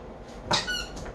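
A dog bites a squeaky toy, giving one sharp high squeak followed by a softer drawn-out second squeak, close and otherwise quiet.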